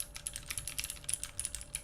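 Clicky blue switches on a Rune Poker U60 custom keyboard clack in quick, crisp keystrokes, a close, steady run of sharp ticks with no talking.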